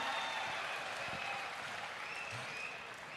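An audience applauds with dense, continuous clapping. It holds steady, then fades slightly toward the end.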